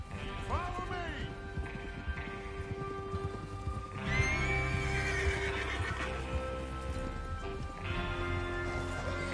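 Horses neigh and whinny in a Western video game, joined by clip-clopping hooves, under background music and scattered talk, with a louder whinny around the middle.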